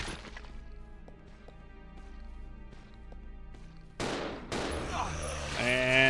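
Gunfire in the video game Resident Evil 0 erupts as loud, dense bursts of shots over the game's music and ambience, getting heavier toward the end.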